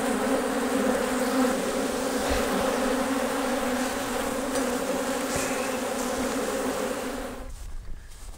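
Honeybees swarm around hives in western Oklahoma, a loud, continuous close-up buzz that holds steady and then drops away near the end.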